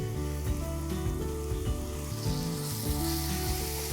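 Chicken keema sizzles loudly in hot oil with ginger-garlic paste, a steady dense crackle and hiss that runs without a break up close, with no voices over it.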